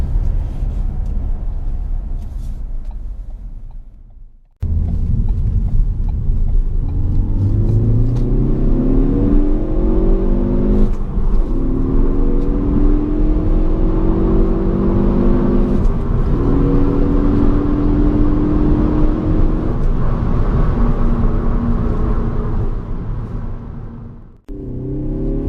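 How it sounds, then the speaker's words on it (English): A 2016 Ford Focus ST with a 2-liter turbocharged four-cylinder drives and accelerates, the engine note rising through gears in repeated pitch sweeps, loud and continuous with brief cuts near the start and end. "the Ford Focus ST has a 2-liter 4-cylinder turbocharged engine that puts out 252 horsepower"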